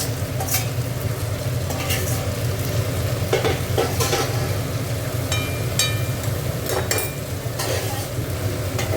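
Dried fish (shutki) sizzles steadily in a hot pan, a constant loud frying hiss broken by occasional clinks and stirring scrapes.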